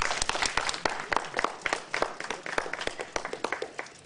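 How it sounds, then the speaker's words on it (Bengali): Audience applause at a reception, many distinct hand claps in a lively irregular patter, close and clear but fairly quiet overall, continuing steadily without speech. "আসুন সবাই মিলে তাকে হাততালি দিয়ে"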